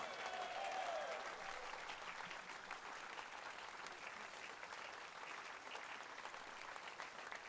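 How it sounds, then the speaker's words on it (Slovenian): A concert audience claps in steady, full applause at a brass band's 120th anniversary gala, a continuous crowded patter with a brief whistle-like tone near the start. "ta aplavz je za vas"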